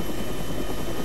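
Loud, close helicopter rotor and turbine in Arma 3, a medium utility helicopter whose blades thump rapidly and evenly over a constant high turbine whine, with no voices.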